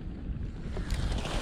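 Wind blows on a foggy morning outdoors on the Isle of Arran, a continuous low rumbling gust buffeting the microphone, with no voices.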